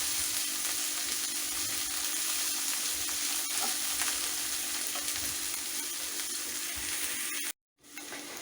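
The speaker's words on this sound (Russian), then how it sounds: "И тоже все протушу, обжарю до полуготовности." Vegetables and peppers sizzling in a frying pan, being sautéed half-done for Ukrainian kapustnyak with millet; a steady loud crackling fry continues throughout before a brief sudden drop to silence near the end.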